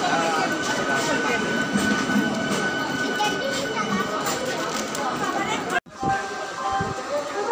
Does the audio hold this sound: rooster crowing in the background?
no